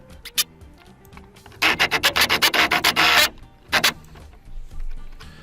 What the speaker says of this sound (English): So just brushing all the plastic bits and put them in my back pocket